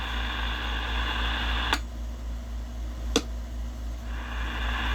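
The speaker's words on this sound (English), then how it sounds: "you can hear the kind of the delay in the receive." A Sonar FS-3023 radio, recapped with a new tube and connected to a dummy load, gives a steady hiss of receiver noise. Two sharp clicks cut the hiss, which drops and then returns after a short delay. No one speaks.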